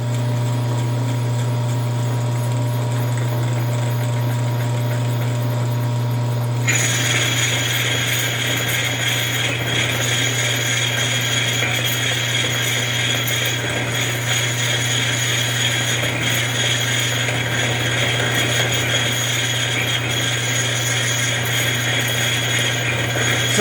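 A Hardinge HLV lathe turns a fuel cell ring from bulk stock, with a steady mechanical hum that steps up to a brighter, louder whine when the spindle speed rises partway through, then holds constant.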